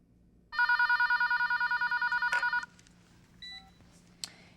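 A telephone rings in one long trill of rapid bell pulses, then stops, followed by a couple of quieter clicks and a brief beep.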